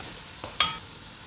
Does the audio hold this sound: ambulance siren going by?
no